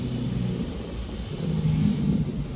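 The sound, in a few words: yellow car driving away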